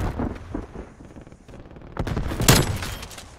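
Sniper rifle gunfire in the Call of Duty Cold War video game, with a few sharp, loud shots and a burst around the middle to late part over a continuous in-game background.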